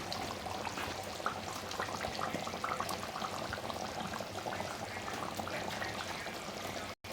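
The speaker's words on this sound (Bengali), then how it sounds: "এখন আমি এর মধ্যে ভেজে রাখা বড়াগুলো দিয়ে দিচ্ছি" Fried soybean fritters dropped into simmering, thickened potato gravy in a pan, a steady close bubbling and wet sizzling hiss throughout, with no voices.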